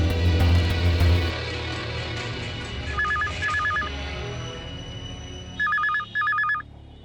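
A telephone rings in short doubled bursts, twice around the middle and twice near the end, over a low musical or room hum in a Telugu film scene.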